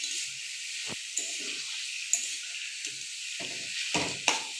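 Salted potatoes frying in a pan are stirred, a steady bright sizzle with intermittent scraping strokes and soft clunks of the utensil, close up and without speech.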